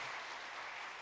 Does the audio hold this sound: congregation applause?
yes